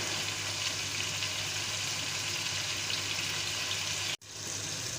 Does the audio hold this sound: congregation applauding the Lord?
no